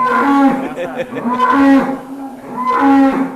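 A cow on a cattle farm moos three times in quick succession, each call loud, close and drawn out, with brief pauses between them.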